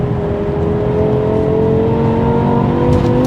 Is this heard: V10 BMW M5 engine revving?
yes